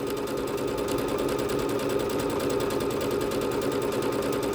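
A Bernette B-77 sewing machine stitches out a fast, simple decorative stitch, its steady rapid needle rhythm running loud and close without a break.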